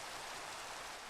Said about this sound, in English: I really want this rain to stop.